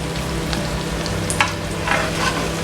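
A hamburger patty fries in a pan with a steady, close sizzle and faint hum, a couple of brief scrapes and crackles rising out of it.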